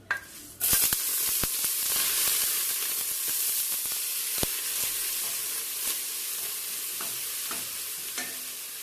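Shrimp shells frying in about four spoons of hot vegetable oil over high heat, a loud, steady sizzle that bursts in at the start, with intermittent clicks of stirring throughout.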